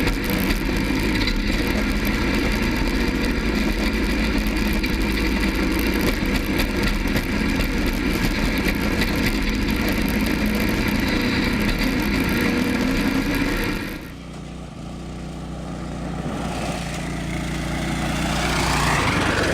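A go-kart engine on a full-suspension kart holds a steady, loud running drone at throttle, then dips abruptly as the revs drop and slowly builds again toward the end.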